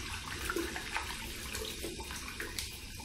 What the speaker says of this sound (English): gonna leave the tap running so I don't have to mess up the taps when I run my hands under the tap